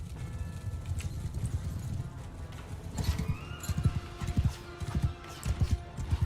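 Cavalry horses charging in Mount and Blade II: Bannerlord, a rapid clattering clip-clop of many hooves with whinnies, growing heavier and more rhythmic as the charge closes in, with battle game sounds underneath.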